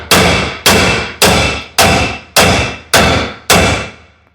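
Seven loud, evenly spaced hammer blows ring out against a seized wheel bearing on a 2013 Nissan Titan. Each sharp metallic whack decays quickly before the next, close up and with no talk.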